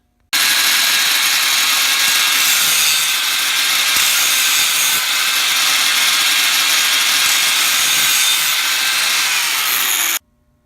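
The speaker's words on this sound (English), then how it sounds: "More grinding to prep for welding the foot plates to the bottom of the posts." An angle grinder works steel foot plates and bed frame posts before welding, a loud, sustained, unbroken grind for about ten seconds that starts and stops abruptly.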